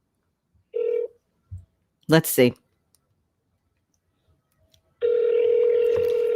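Telephone on speakerphone: short tone and clicks, a burst of dialing, then a long steady ringback tone at the end, with a brief spoken bit early on.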